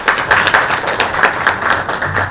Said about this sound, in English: a round of applause for yourself.